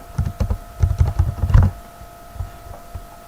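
Several quick keystrokes on a computer keyboard as a disk partition command is typed in Windows 10, a brisk uneven burst of clicks, close and fairly loud, then a few scattered taps trailing off; no talking.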